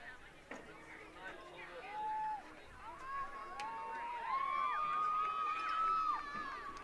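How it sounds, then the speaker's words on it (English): A crowd at a varsity high school football game between Covington and Attica applauds and cheers for the homecoming queen, with a steady roar of clapping and shouts from the stands and a voice talking over it. "Big round of applause from the crowd."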